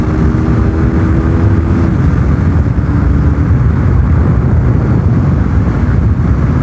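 A KTM RC390 motorcycle engine hums steadily as the rider accelerates to pass another vehicle, a droning note under heavy buffeting wind roar, close and loud throughout.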